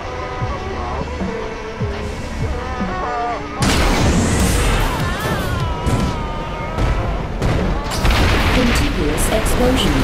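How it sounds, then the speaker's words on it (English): Booming explosions from the video game ScreamRide, demolishing a structure, burst in loud, overlapping waves after a quieter opening, with a musical score running underneath throughout. "Contiguous explosions. Extensive damage noted."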